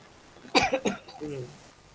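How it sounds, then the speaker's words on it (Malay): A few quick, close coughs in a short burst, followed by a brief throat-clearing sound. "Sebab saya batuk sikit je"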